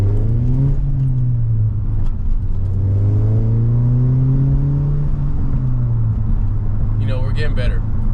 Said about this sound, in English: It's hard for me to drive slow in a manual car because I just want to bang through all the gears.